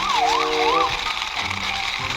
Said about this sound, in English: Now I will drive this police car.